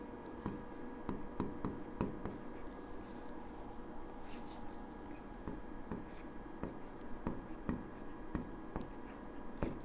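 A pen scratches across paper while a math problem is worked out, giving quiet, close strokes with repeated short taps and scrapes in an irregular rhythm, under soft speech.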